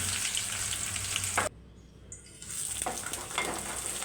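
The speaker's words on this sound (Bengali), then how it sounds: "হাঁড়িতে তেল বসিয়ে তাহলে দারুচিনি লবঙ্গ পেঁয়াজ রসুন" Loud close sizzling of cinnamon, cloves, onion and garlic frying in oil, briefly dropping to a quieter hiss before the crackling sizzle returns at full strength.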